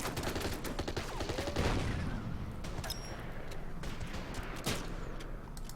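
Battlefield gunfire in the strategy war game Order of Battle, a Beiping battle scenario: steady crackling rifle and machine-gun bursts with distant booms, a dense continuous fusillade at moderate volume throughout.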